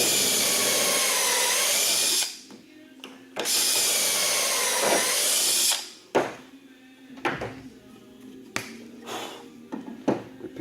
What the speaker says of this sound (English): drill both holes